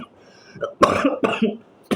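A person coughs several times in quick succession, harsh and close, with a brief pause before a final cough.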